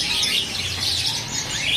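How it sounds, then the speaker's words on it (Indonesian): An East Javan terucuk bulbul caged at a bird market gives bright chirping song, repeated tweets over a busy background murmur, close and clear. "Untuk selanjutnya di sini ada burung terucuk"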